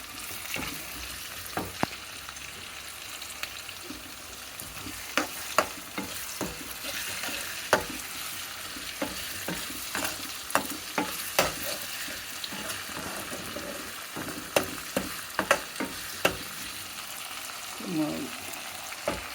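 Onions frying with salt in a pan while being stirred, a steady sizzle broken by repeated scraping strokes of a spoon against the pan, close and fairly loud with no talking.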